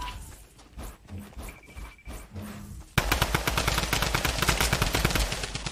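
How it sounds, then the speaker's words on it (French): Gunfire in a video game starts halfway through as a loud, continuous rattle of rapid automatic shots, following quieter scattered game sounds. "Qui tire sur qui?"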